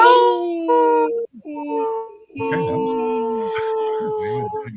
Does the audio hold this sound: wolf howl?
yes